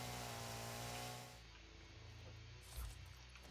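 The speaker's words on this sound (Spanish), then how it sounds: "motosierra para quitar esto de aquí." Chainsaw clearing foliage in the factory-building game Satisfactory, a steady droning buzz with a tonal whine that drops off after a second, leaving a quieter hiss and a brief low thump near the end.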